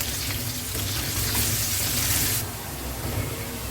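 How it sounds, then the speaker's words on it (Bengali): Half a cup of chopped onion fries in the oil left from cooking boal fish, making a steady, close sizzling hiss that brightens for a moment partway through and then settles, with no speech. "মাছের এই তেলের মাঝে আমি দিয়ে দিচ্ছি হাফ কাপ পরিমাণ পেঁয়াজ কুচি। পেঁয়াজটাকে একটু ভেজে নেব।"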